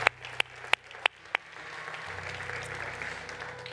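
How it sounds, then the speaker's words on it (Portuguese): A few sharp, scattered hand claps from a church congregation ring out over about a second and a half. They stop quickly, leaving a low room hum and faint background murmur. "Vamos dar mais um aplauso ao Senhor, porque Ele é digno."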